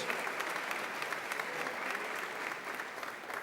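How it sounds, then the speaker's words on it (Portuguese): A church congregation applauds together in a continuous, energetic burst of clapping from many people, full and even throughout, with no clear speech on top. "aplauda o nome de Jesus"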